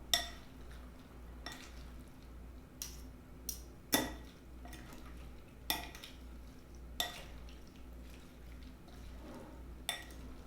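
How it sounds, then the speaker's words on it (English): Leftover Olive Garden salad drenched in dressing being tossed and mixed, with soft wet stirring under scattered sharp clinks of utensil on bowl, fairly quiet over a low steady hum. "my salad, I like a lot of dressing, so I always gotta mix this up real good"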